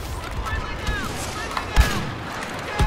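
A cycler rifle fires in a Star Wars Battlefront match, one loud sharp blast partway through amid a dense mix of sci-fi blaster whines, whooshes and battle noise, with faint voices in the background.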